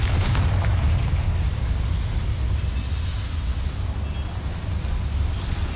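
A Confringo blast spell in Hogwarts Legacy sets off a sustained, loud, rumbling explosion with a heavy low-end roar that holds steady for several seconds, with no talk over it.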